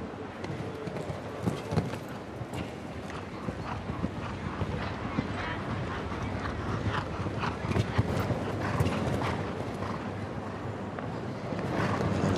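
A show jumping horse gallops around a Grand Prix arena in Hannover, its rhythmic hoofbeats thudding steadily under continuous German commentary and crowd ambience.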